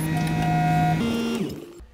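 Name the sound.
Vacuworx CM3 skid steer vacuum lifting attachment with hydraulics running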